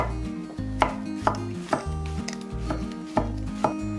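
A knife cuts shiitake mushrooms into thin strips on a cutting board, sharp taps repeating at a quick, regular rhythm, close and clear with no talking.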